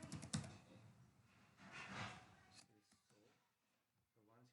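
Keys clattering on a computer keyboard while entering Java code in the Eclipse IDE, quick close tapping bursts at the start and mid-clip, with someone talking over and between the keystrokes.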